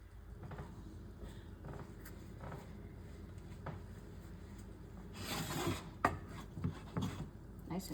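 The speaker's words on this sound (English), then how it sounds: "with a knife like this, and I just slice it" A knife cuts through a cooked, fluffy egg dish with a soft, rasping scrape, quiet at first, then a firmer burst of slicing and a few light knocks against the surface near the end.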